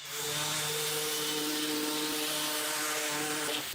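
Power sander running over wooden cabinet door frames with 120 grit Abranet, a steady close buzzing whir with tonal hum that holds constant for a few seconds, no talk.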